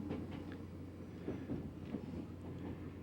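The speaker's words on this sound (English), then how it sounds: "we're on the Tokyo subway right now" Tokyo subway train running, a low steady rumble of wheels and car noise with faint rhythmic clatter, heard from inside the carriage at a soft, even level.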